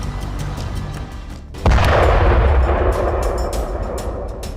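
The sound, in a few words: Israeli air force missile strikes on Khan Younis, Gaza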